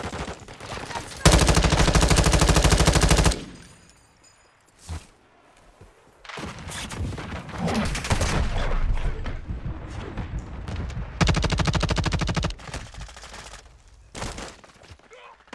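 Automatic gunfire in the Modern Warfare 2 beta shooter game comes in loud, sustained bursts separated by quieter stretches of thumps and game noise, with brief voice sounds in between.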